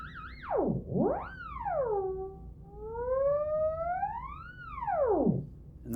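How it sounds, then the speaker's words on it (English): A theremin plays a singing electronic tone that swoops down and up in smooth, wide pitch glides, clear and sustained throughout with no talk. "We have the theremin sounding 880 hertz"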